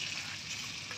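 Fish frying in a pan gives a steady, close sizzling hiss for a brief moment, with no voices.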